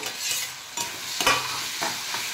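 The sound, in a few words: stirring cut tomato into frying button mushrooms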